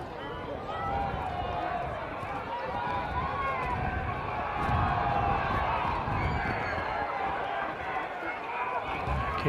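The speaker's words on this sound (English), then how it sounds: "The crowd's making a lot of noise about something." A large crowd roars and murmurs at a senior country football grand final between Birchip-Watchem and Donald, a continuous, dense wash of voices that swells slightly midway and stays loud throughout.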